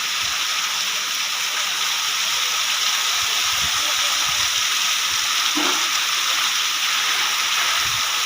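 A heavy, sudden downpour driven by strong wind makes a dense, constant rushing roar of rain that stays loud and even throughout, with a few faint low bumps beneath it.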